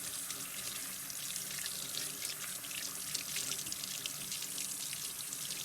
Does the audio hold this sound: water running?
yes